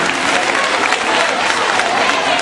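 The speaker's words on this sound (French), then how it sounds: "Je vous demande de les applaudir pour tout ce qu'ils ont fait pour la réussite de ces journées." Applause for school staff at a school ceremony, a dense, steady wash of clapping from a large crowd filling the whole stretch at constant loudness.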